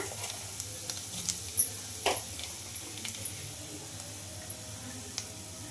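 Chopped garlic and cumin seeds fry in a pan of oil for a spinach and onion dish, giving a faint, steady sizzle with a few soft clicks and pops, and no voices.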